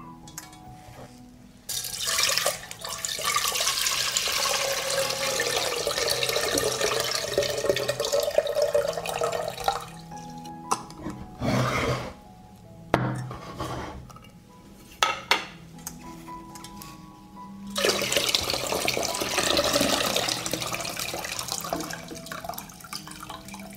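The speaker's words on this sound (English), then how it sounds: "I pour the water from the jar into a saucepan." Water poured from a jar into a saucepan in a kitchen, a bright splashing stream with clinks of glass and metal, running in long bursts broken by short pauses, close and fairly loud, no voices.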